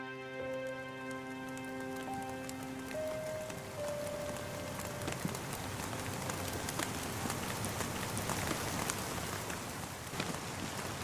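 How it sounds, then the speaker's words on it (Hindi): Steady rain pours down with a dense hiss, scattered louder drops spattering on a surface, continuous and without voices. "बारिश और तेज होती गई।"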